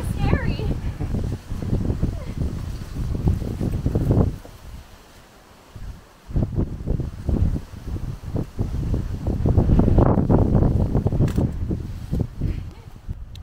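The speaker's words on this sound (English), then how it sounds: "Windy." Gusty wind buffets the microphone in a steady low roar on a hike in Palm Canyon, Kofa Wildlife Refuge, dipping briefly midway before swelling again, with faint voices mixed underneath.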